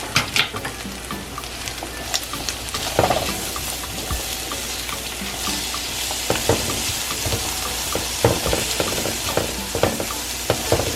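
Turkey fried rice with garlic being stir-fried in a pan, a close, continuous sizzle with scraping and stirring clatter throughout.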